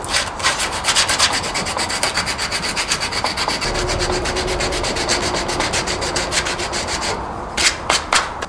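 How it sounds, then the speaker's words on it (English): Hand sanding of a small wing of wood on a rustic furniture joint, close and rhythmic rubbing strokes that repeat steadily, with a brief pause before a few final strokes. "So I'll just sand that little wing off."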